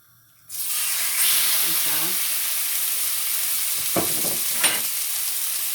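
Pieces of chicken drop into a hot pan and a loud, steady sizzle takes over, with a couple of brief clanks from stirring; no one talks.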